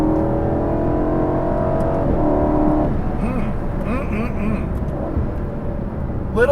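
A 2021 Aston Martin V8 Vantage Roadster's engine and exhaust burble on the move as a steady low drone with a humming tone early on, which eases into a rougher rumble.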